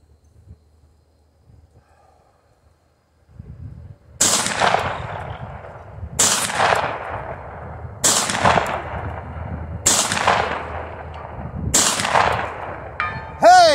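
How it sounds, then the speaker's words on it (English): Five loud shotgun slug blasts from a Panzer M4, evenly spaced a couple of seconds apart, each with a sharp boom and a long ringing tail from a steel gong struck at 200 yards, after a quiet stretch of faint rustling. "I've officially hit that fucking gong at 200 with a shotgun with slugs."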